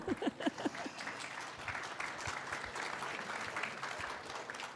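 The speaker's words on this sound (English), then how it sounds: "je crois qu'on peut vous applaudir" An audience at an awards evening breaks into applause, starting with a few sharp claps and swelling into moderate, steady clapping that carries on to the end.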